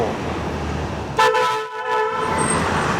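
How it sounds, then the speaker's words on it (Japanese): A car horn sounds once in a short, loud honk, with steady harmonic tones cutting over a street's background traffic near a shrine in Asagaya, Tokyo, then fading into the road noise. "クラクションになるね。"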